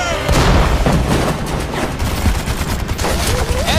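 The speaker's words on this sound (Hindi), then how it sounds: "फायर करते रहो" German high-velocity anti-tank guns fire in dense, loud, booming bursts amid battle noise, with voices shouting underneath.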